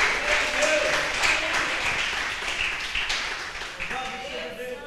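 A church congregation applauds at a Portuguese-language worship service, a dense wash of clapping and cheering that stays steady and fairly loud throughout, with voices mixed in.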